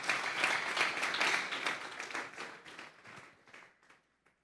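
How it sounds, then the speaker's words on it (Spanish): A church congregation bursts into loud, dense applause that holds steady for a couple of seconds, then thins into scattered claps and fades out toward silence. "Vamos a darle un fuerte aplauso pues al Señor"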